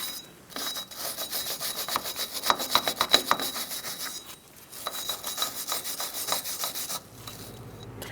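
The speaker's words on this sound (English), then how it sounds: "Use a wire brush to get in that" A wire brush scrubs rust from the wheel hub of a 2010-2013 Kia Soul with the rotor off, making harsh, rasping strokes in quick, uneven bursts close by, with a brief pause midway and no talking.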